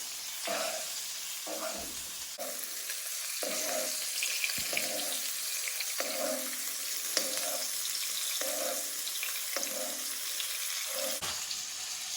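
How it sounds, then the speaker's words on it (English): A steak sizzles and spits as butter and oil are repeatedly spooned over it in the pan, the frying hiss rising and falling in a regular rhythm of basting strokes, close and unaccompanied by speech. "the butter and the oil on top of your steak as it cooks, like so"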